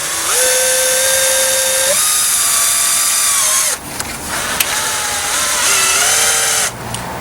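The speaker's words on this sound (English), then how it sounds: "I use deck screws, and I screw them inside the window." Power drill driving deck screws through a replacement window frame set in a masonry opening, loud whining motor bursts rising and falling in pitch, two long runs separated by a short pause, close and continuous.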